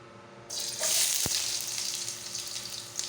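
Sliced fresh ginger hits hot cooking oil with a sudden loud sizzle that settles into steady, close frying for a few seconds, no voices.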